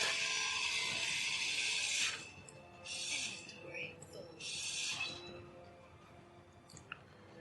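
Grinder tool grinding through a block in the game Space Engineers, a loud harsh mechanical grind that runs steadily, cuts off, then returns in two shorter bursts before fading to quiet.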